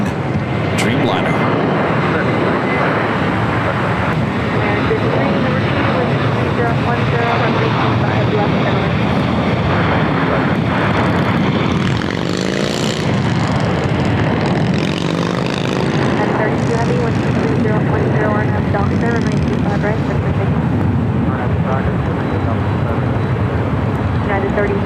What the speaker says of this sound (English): United Airlines flight 32 heading to Tokyo Narita in a 787-9 Dreamliner